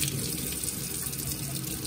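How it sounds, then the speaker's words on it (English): Water running through French horn tubing and out of the main tuning slide during a rinse, a steady close splashing gush like a running tap, loud and unbroken with no voices. "if you can zoom down, Carly, where the water is flowing out of the main tuning slide down here"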